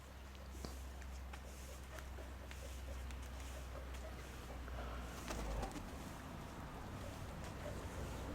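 Koropets pigeons flying out and settling over the area, with soft cooing and wing sounds under steady wind noise and a low hum, moderately loud throughout.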